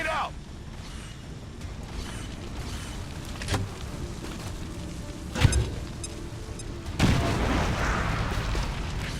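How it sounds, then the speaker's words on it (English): A grenade blast in XCOM 2, one sharp boom at mid-clip and another heavy rumbling burst that rolls on afterward, over game ambience with light talk. "Grenade out!"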